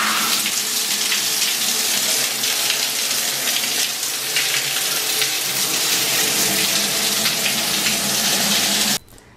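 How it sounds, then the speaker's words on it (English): Shower water runs in a steady, close hiss for several seconds and then cuts off abruptly near the end. "Okay guys, so I'm gonna shower. I'm gonna jump in as we speak."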